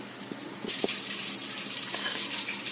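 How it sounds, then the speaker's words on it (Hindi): Water is poured into an ivy gourd fry as it cooks, a steady splashing hiss that starts after a few soft clinks and carries on evenly to the end, close and moderately loud. "थोड़ा पानी ऐड करेंगे हम"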